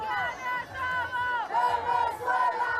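A large crowd of protesters marching outside Caracas toward a military prison, chanting loudly in unison with rising and falling rhythmic calls and a dense babble of voices.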